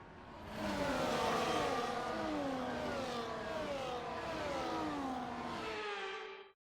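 F1 cars on the formation lap in F1 24, a loud layered whine of several engines rising and falling in pitch as cars pass and accelerate, continuous for several seconds before cutting off abruptly.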